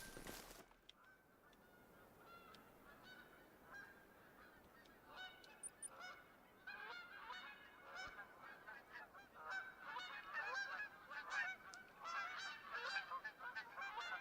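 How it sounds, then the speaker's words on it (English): A flock of geese honks repeatedly in the hunting game The Hunter: Call of the Wild, overlapping calls growing louder and busier toward the end, set against faint ambient wind. "Those geese are loud."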